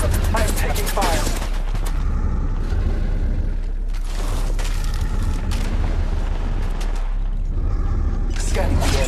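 Gunfire from a mobile battle royale shooter, Apex Legends Mobile, with bursts of shots and heavy impacts layered over a constant dense game mix, while game character voice lines play throughout.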